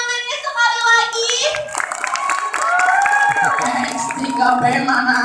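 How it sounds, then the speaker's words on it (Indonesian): A school crowd cheering on class X3B claps and shouts at an event, with children's voices and scattered hand claps mixing into a lively, continuous din that swells through the moment. "Coba kurang meriah tepuk tangannya sekali lagi."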